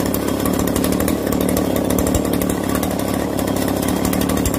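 A Makita RBC 411 brush cutter runs continuously and loudly up close. Its small two-stroke engine buzzes harshly and steadily, and the machine has a noisy fault in the clutch drum and bearing.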